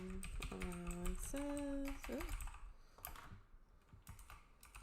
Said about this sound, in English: I want to type this.